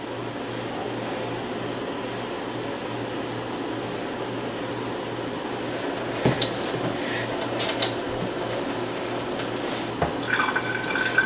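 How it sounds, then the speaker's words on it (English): Kitchen tap running a thin stream into ketchup and barbecue sauce bottles, a steady hiss of filling water with clinks and small plastic knocks near the end. "You turn the water on a little bit, you take the ketchup bottle or barbecue sauce bottle, whatever bottle you want to use, and you put a little bit of water in it."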